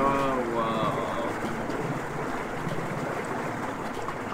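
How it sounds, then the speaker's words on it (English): Rushing whirlpool water from the video game Baldi's Basics Plus, a steady broadband wash that fills the whole clip at a fairly loud, even level, with a voice briefly heard over the opening moment. "I really hope the water ain't too loud that you guys can't hear me."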